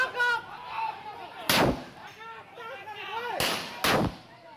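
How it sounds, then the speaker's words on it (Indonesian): Three loud police warning shots crack out during a raid, one early and two close together later, over shouting voices and crowd commotion. "Sejumlah tembakan peringatan terpaksa diletuskan polisi untuk menakuti sekelompok orang yang tiba-tiba menyerang."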